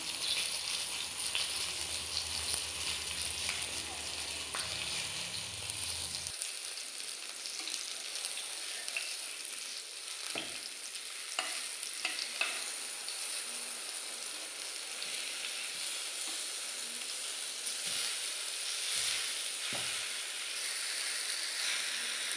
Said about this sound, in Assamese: এতিয়া মই একেবাৰে হাই ফ্লেমত হ'ব দিম বেঙেনা পানীখিনি টানিবলৈ।